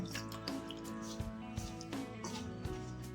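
Water is added bit by bit to rice flour dough while it is mixed for akki rotti, giving close, irregular drips and soft wet squishes over a faint steady hum.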